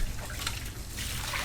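Water poured over a tegu lizard's head during its bath makes a steady, close trickling and splashing stream, with no talk.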